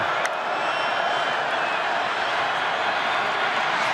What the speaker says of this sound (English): Crowd's coming alive.